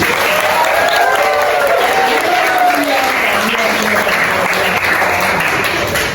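A classroom or workshop audience claps loudly and continuously, dense and close, while a voice speaks over the applause throughout.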